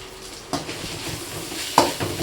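Curry leaves fry in hot oil in a pan for chicken curry, making a close sizzle, with two sharp stirring scrapes against the pan.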